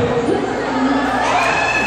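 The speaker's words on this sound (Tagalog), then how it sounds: "Yung sigaw pa lang ngayon, mukhang maraming ibig sabihin." A crowd shouts and cheers at a campus tour event with Rajkillaz and Salbakuta, a dense, continuous roar of many voices with children's shrieks mixed in, loud and steady throughout.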